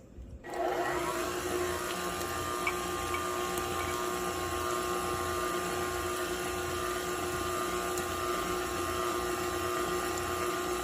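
An electric mixer spins up after a brief start and runs steadily with a loud, even whir while it beats pound cake batter flavored with almond extract and vanilla. No one speaks over it.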